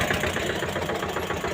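A tractor engine idles steadily at a rice threshing site in a village, a continuous loud rumble with a knocking mechanical pulse and no voices over it.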